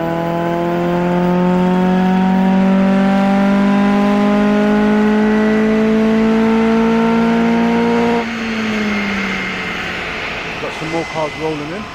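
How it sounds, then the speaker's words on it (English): Tuned performance cars arriving at a car meet event, engines droning loudly and steadily with a rising pitch, then shifting to a rougher, pulsing rev near the end; people talk over the engine noise. "Cars rolling in."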